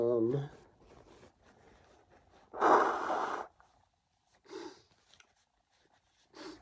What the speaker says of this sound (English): I gotta blow my nose yet again.